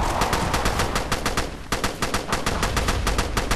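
Rapid automatic gunfire in the online shooter Army Rage, played in deathmatch mode, rattles on as a dense, loud stream of evenly spaced shots for the whole stretch, with only a brief dip midway.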